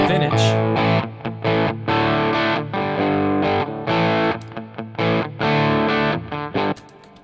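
High-gain distorted electric guitar from the Amplifikation Creme amp simulator plays choppy, palm-muted chugs and stabs in a tight rhythmic pattern, loud and up front, with brief gaps between bursts.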